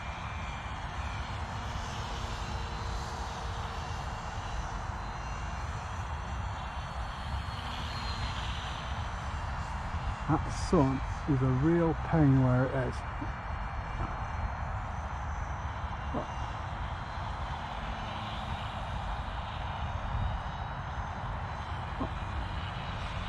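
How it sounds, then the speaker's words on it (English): A FunBat, a flat-wing foam RC plane, flies overhead. Its electric motor makes a faint, steady whine against outdoor background noise, swelling and wavering briefly as it passes. Someone speaks briefly. "this flies okay for a flat wing foam plane"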